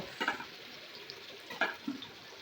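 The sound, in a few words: marinated chicken frying in oil in a wok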